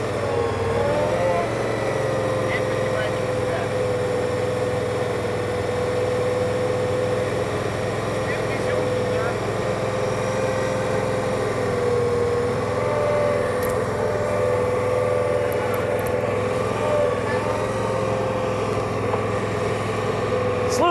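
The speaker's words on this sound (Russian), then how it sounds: "Сейчас я попробую осуществить копательные работы." A digging machine working at an exotic-vehicle festival, its engine giving a steady, moderately loud drone and hum throughout, with someone talking over it.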